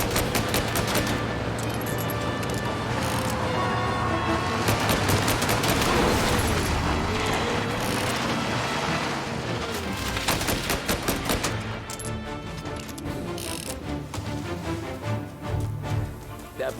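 Gunfire in the Mafia: Definitive Edition video game, a dense, continuous barrage of shots with a fast machine-gun rattle that keeps going for the whole stretch, loud and close, mixed with game music and effects.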